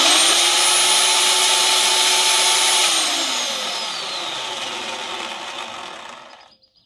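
A Procraft BH1600 rotary hammer drill runs in conventional drilling mode, a loud steady motor whine that cuts off at about three seconds and winds down gradually to silence.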